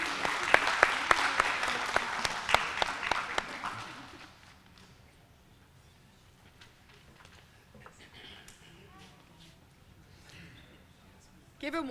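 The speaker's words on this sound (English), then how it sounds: "We get one more round of applause for all of our presenters and graduates." Audience applause for honors presenters and graduates at a college honors forum: loud clapping through the first four seconds with some sharp individual claps, then it fades to quiet room noise before a brief burst at the end.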